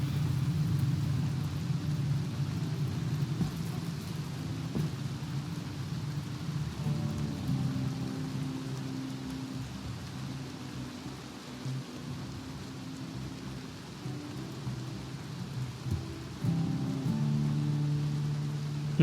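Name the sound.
rain from the video game Rimworld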